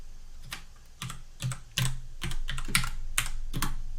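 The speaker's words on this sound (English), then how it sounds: "And then I'm going to type in the math." Typing on a computer keyboard while entering math notes in Word, heard as scattered close key clicks and short bursts over a low background hum, no talking.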